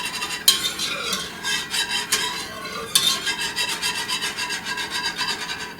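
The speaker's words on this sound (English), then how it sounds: "So I'm just going to whisk this occasionally." A whisk scrapes around a pot of shortcut potato soup on low heat, making rhythmic rasping strokes, close and fairly loud, with a couple of sharper knocks against the pot and no voices.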